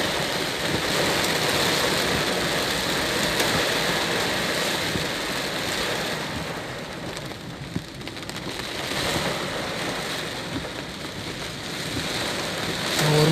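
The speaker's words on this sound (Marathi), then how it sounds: "पाऊसच पाऊस" Heavy monsoon rain pouring on a flooded Pune street, a dense continuous hiss of downpour on water and surfaces, steady and enveloping with no talk.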